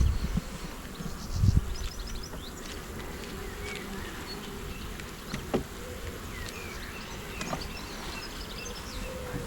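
Honey bees buzz steadily around an open hive kept in a bin during an inspection, a close, continuous droning hum with occasional louder passes of individual bees near the microphone.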